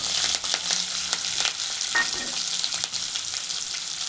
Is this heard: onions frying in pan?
yes